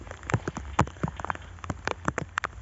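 Rain falling over rice fields, scattered drops pattering and tapping irregularly on nearby surfaces, close and fairly quiet with no voices.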